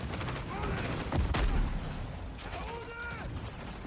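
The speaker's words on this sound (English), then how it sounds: "They shoot people with guns." Gunfire and booming impacts from a video game trailer, a loud cluster of shots and blasts mid-way amid rumbling action, with voices speaking over the scene.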